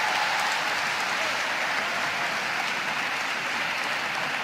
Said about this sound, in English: Rousing applause for Pastore for his choreo.